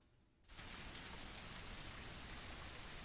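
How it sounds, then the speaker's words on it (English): Simulated light rain switches on after a brief quiet moment, then a steady, soft hiss of pattering drops fills the space evenly, faint overall and without voices. "that's what light rain looks like"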